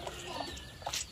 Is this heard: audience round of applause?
no